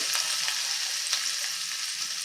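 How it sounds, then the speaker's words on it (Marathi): Garlic sautés in oil in a home kitchen pan for a Marathi matar karanji filling, a steady close sizzle and crackle with faint stirring ticks and no talking. "हा मस्त तेलामध्ये परतून घ्यायचा"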